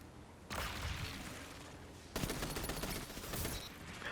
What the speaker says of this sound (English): Now I love this auto rifle. It has onslaught, and so you can see how much faster it shoots for the second person.